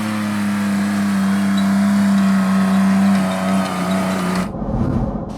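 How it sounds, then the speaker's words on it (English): Loud exhaust note of a 1989 Toyota pickup engine idling and running steadily, a strong low rumble with a droning tone, cut short partway through by a clunk and muffled noise. "exhaust on this thing is so loud"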